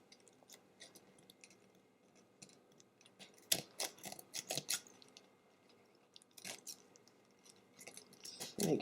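Wire being snipped off a holiday gift basket: a few quiet, close clicks and crisp snips from cutters, with soft rustling of wrapping between the cuts.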